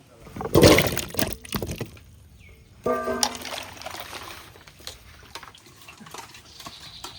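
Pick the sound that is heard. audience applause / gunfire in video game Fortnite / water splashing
water splashing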